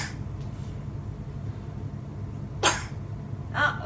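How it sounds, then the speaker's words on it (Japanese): A young child coughs twice in a quiet room, two short bursts about a second apart, close to the listener over low background hum. "あ、お咳出てる。"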